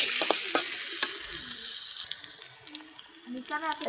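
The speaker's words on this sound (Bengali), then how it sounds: "এখানে ডিমগুলো ভাজে নিচ্ছি, আর এখন ঝাল পেঁয়াজ ভাজছি।" Spicy onions frying in a pan after eggs, sizzling, mixed with running water and light kitchen clatter, a few soft utensil knocks, fairly close.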